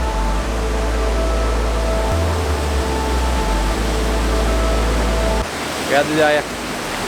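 Steady broadband rush of waterfalls along a hiking trail in the Gorges du Bilhard near Monistrol-sur-Loire, a continuous close roar with a low hum underneath that drops away near the end, when someone speaks briefly.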